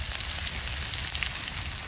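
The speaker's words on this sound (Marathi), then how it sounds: "तेल घालून घेऊ तडक्यासाठी." Oil sizzles steadily in a hot pan for a dal tadka with cumin, ginger, garlic and asafoetida, a continuous close crackle and hiss with no talk.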